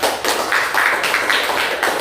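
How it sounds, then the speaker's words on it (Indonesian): Clapping from a classroom audience during a teaching practice session, a small group producing dense, steady claps that carry on throughout without talk. "tepuk tangan untuk pemirsa."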